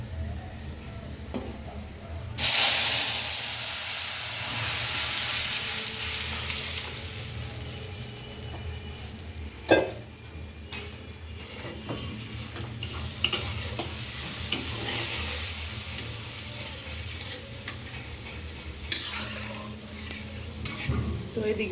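Red lentil dal with raw tomato being tempered with chili and mustard seeds: a sudden loud sizzle bursts in and settles into a steady hiss, with occasional stirring clatter and background speech.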